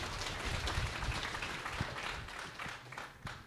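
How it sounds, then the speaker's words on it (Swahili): Applause from a crowd gathered at a memorial life celebration, a steady broad patter of clapping that carries on without a break from start to finish and stays at a moderate, even level. "Tuwapigie ni makofi vizuri"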